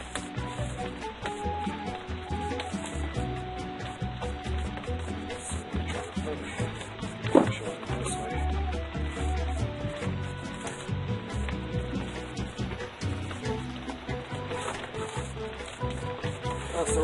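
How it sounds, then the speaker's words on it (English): Steady rain falls outdoors on a wet day in Florida, a dense even patter with a single louder knock partway through. "Well, rainy here today in Florida, so just trying to do my best today with the weather."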